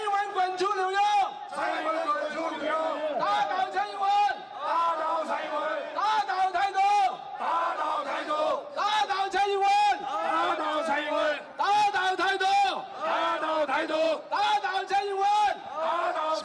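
A crowd of protesters chants in unison against Taiwanese independence, loud and sustained, with repeated rhythmic shouted phrases and brief pauses between bursts.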